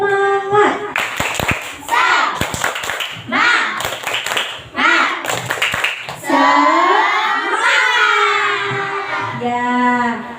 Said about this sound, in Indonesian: yuk kita tepuk semangat dulu yuk